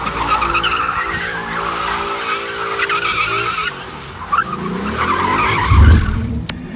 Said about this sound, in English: It keeps the front brakes locked while you accelerate to warm the rear tires for enhanced grip.